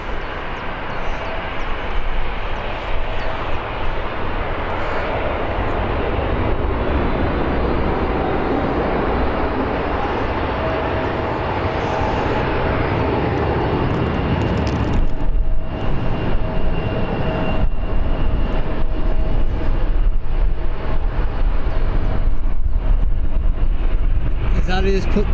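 Eastern Airways airliner departing Birmingham Airport, its engines a loud sustained roar that swells and holds, with a second aircraft waiting nearby and voices talking over the jet noise.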